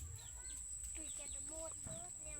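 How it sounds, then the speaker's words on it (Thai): A chicken clucks in short, faint bursts somewhere outdoors, set against a constant high-pitched insect whine and low background hum. "มันไก่"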